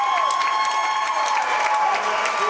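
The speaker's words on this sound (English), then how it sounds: "their fans applauding the effort" Fans applaud and cheer in a gym at a 2012 Minnesota high school boys basketball class AA third-place game between Perham and Braham, a sustained crowd roar with clapping and some whistling.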